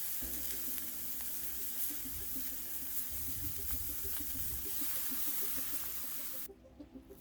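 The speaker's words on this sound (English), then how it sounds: "The next step was to use a couple of slices of bacon." Slices of bacon fry on a VEVOR 21-inch commercial electric griddle with a steady, dense sizzle and crackle that holds evenly, then cuts off abruptly near the end.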